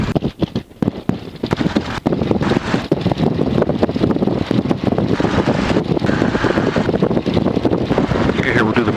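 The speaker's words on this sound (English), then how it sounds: "run the engine up to 1600 RPM" The engine of a T-6 aircraft runs up to 1600 RPM as a loud, rough, broadband roar, buffeted by wind noise, with a voice speaking over it.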